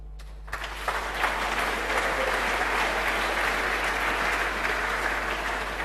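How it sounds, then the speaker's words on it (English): Conference audience at a hacker camp applauding a speaker taking the stage, a dense, sustained wash of clapping over a steady low hum. "Please give him an applause."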